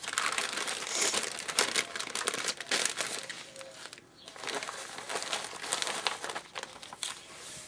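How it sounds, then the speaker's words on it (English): A length of plastic Foodsaver vacuum-sealer bag is pulled and measured off the roll, producing continuous loud crinkling and crackling of plastic that runs throughout, with brief dips in intensity. "A length of the plastic baggie from the roll."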